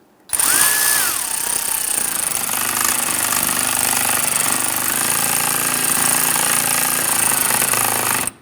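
Power tool snugging down fog light screws on a 2011-2021 Jeep Grand Cherokee, a loud, steady, close whir running unbroken for about eight seconds.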